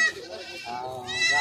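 Goats and sheep at a livestock market bleat nearby in a drawn-out, wavering call, with people talking in the background.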